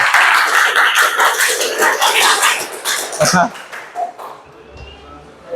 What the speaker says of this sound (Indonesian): Kasih aplaus ke temannya